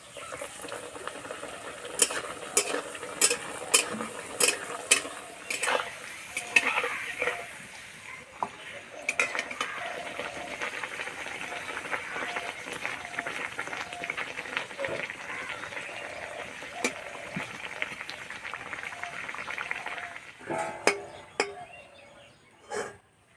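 Aloo paratha fries in hot oil in a kadai, a soft, ongoing sizzle broken by sharp clicks and scrapes of utensils, fairly quiet and close.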